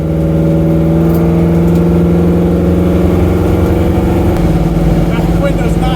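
A car engine runs steadily as the vehicle pulls away on a drive, a loud, close, continuous hum with even tonal bands that barely change throughout.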